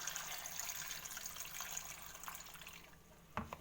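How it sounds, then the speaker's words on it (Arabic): Warm water poured onto pickles in a container, a steady soft hissing stream that tapers off, ending with a small clunk, quiet and close. "هحط عليه الميه الدافيه"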